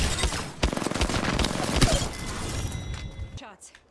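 Dense gunfire rattles through a match of the video game Apex Legends, with rapid overlapping shots and a crash of breaking glass, while players talk over it.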